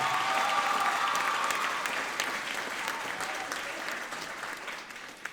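A middle school audience at a popular music concert at Selma Middle School applauds a seventh-grade duet, a dense, steady wash of clapping from the crowd that slowly fades toward the end.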